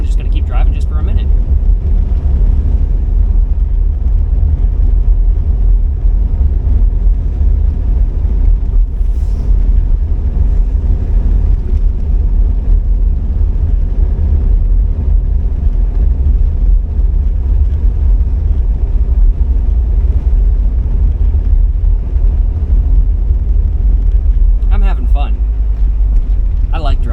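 A 1980s diesel Mercedes drones along while driving, a loud, steady low-pitched engine and road rumble filling the cabin without a break, with a person talking over it.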